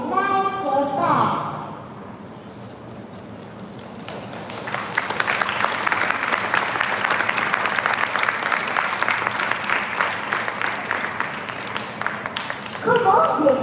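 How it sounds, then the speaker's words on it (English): Audience of parents clapping at a school performance: steady, moderately loud applause that builds after a spoken introduction and carries on for several seconds before a voice returns. "let's hear those claps even louder"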